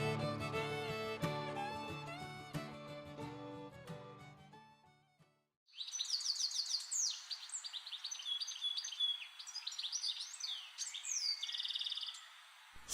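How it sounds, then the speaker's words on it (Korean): Birds sing and chirp in a forest along a riverside otter trail, with many overlapping high calls and trills filling the second half, preceded by music. "수달길을 걷다 보니 유난히 새소리가 많이 들리는데"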